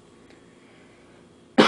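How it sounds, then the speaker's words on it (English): One short, sharp cough sounds close at the very end after near silence. "I'm sorry, I have a slight cough."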